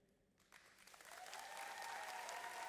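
Applause for a high school student at a college signing ceremony, starting sparse and quickly building into a full, steady round of clapping from a crowd.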